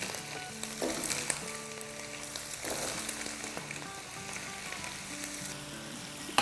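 Cut red potatoes with their skins on fry in a pan, a light steady sizzle with scattered pops and occasional stirring scrapes, while music plays loudly over it.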